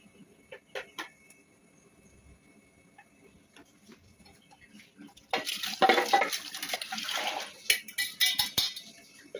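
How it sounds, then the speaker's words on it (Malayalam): A mixer jar is rinsed and the water poured into a pot of prawns and raw mango, with a sudden, loud gush of pouring water starting midway after a quiet stretch of faint clicks and small kitchen noises. "എന്നിട്ട് നമ്മൾ മിക്സി കഴുകി വെള്ളം ഒഴിക്കാം."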